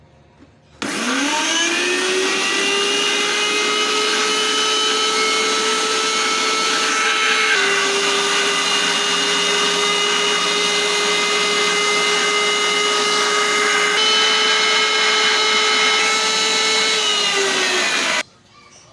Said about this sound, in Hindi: तो मशीन को अब मैं जो है ऑन करूँगा और सबसे पहले जो है इसमें निकालेंगे प्याज और हरी मिर्च और हरा धनिया